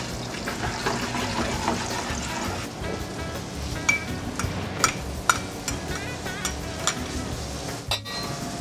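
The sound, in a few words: whisking butter into a sauce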